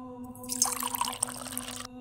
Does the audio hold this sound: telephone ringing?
no